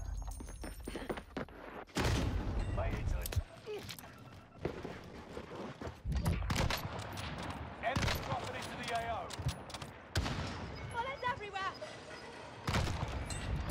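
Gunfire rattles through a Call of Duty Warzone match on Rebirth Island, with loud, dense bursts and rapid shots recurring over nearly the whole stretch, while voices talk amid the fighting.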